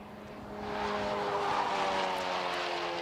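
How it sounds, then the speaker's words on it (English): A race car at Snetterton's time attack and racing Hondas championship, engine droning steadily as its tyres are pushed to the limit, a continuous loud scrubbing squeal building after the first half second and holding to the end. "you can really hear pushing the tyres to the limits there with that car"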